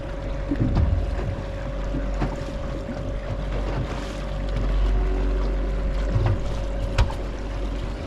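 A boat pushed along by a Garmin Force trolling motor on saltwater gives a steady motor whine, with wind buffeting and water sloshing throughout.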